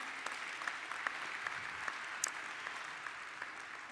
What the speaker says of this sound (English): Can we give him a resounding round of applause as he comes up?